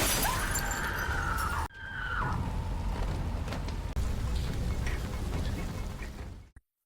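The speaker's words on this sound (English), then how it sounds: "He smashes the car window" A car window is smashed in a horror film scene: a loud, harsh shattering burst breaks off abruptly, then a dense crunching, rattling clatter carries on close by for several seconds before cutting to silence.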